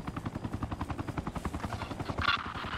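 A helicopter in the military video game Arma Reforger thrums close by with a fast, even rotor chop that pulses steadily throughout, loud and alone, with a brief brighter burst near the end.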